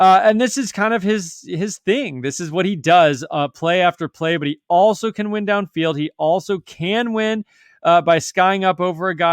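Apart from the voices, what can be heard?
No everyday noises stand out.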